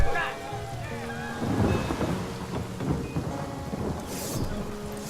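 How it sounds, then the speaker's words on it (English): A thunderstorm summoned by a rain scroll in the video game Divinity: Original Sin, with loud rolling thunder and steady rain pattering over a harbour scene, continuous throughout. "The rain scroll to save that ship."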